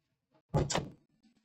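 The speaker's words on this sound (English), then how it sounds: "Stephen, please close that door." An interior door is pushed shut, giving a single close solid thunk with a short rattle, loud against a quiet room.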